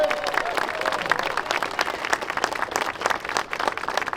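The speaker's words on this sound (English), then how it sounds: "A big round of applause for our volunteers." A crowd at Balboa Park claps and applauds volunteers, a dense patter of many hands at moderate distance, with some voices mixed in beneath the clapping.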